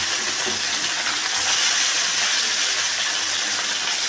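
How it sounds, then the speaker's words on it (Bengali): Bhola fish fry in a pan with a steady, loud, close sizzle that hisses evenly throughout, with no talking. "মাছগুলো ভেজে নিচ্ছি"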